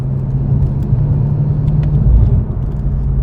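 A BMW F90 M5 on JRZ coilovers driven hard through corners, its engine giving a steady, loud low rumble close up that swells briefly before settling, with no talking.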